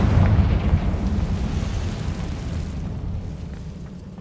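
A Confringo fire-spell blast from Hogwarts Legacy, a deep loud rumbling boom that hits at once and then rolls and fades over a few seconds, with no one talking.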